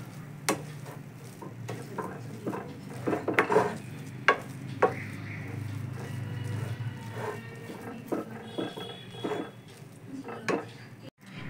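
A spoon scrapes and clatters against a pan as a pea filling for kochuri is stirred with roasted spice mix, with repeated metallic knocks over a low sizzle, close by.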